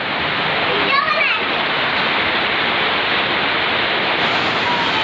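Heavy rain pours down during an Assamese rice-feeding ceremony, a dense and unbroken roar of rushing water. A voice is heard briefly near the start.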